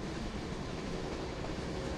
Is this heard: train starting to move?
yes